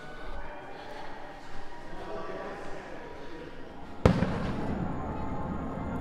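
Fireworks at Walt Disney World, a broad rumbling wash of distant bursts with a sharp, loud crack near the end, heard amid crowd noise and general outdoor ambience.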